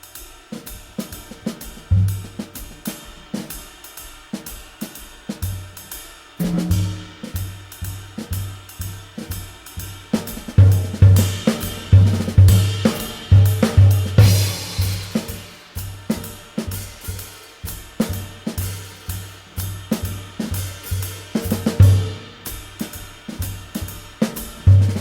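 A steady swing jazz rhythm is played on a cymbal, with bright repeated strikes in a skipping pattern over soft low thumps, and no talking.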